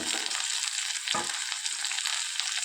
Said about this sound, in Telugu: శుభ్రం చేసుకున్నటువంటి చింతకాయలను ఈ పచ్చిమిర్చిలో వేసి వేయించుకోవాలి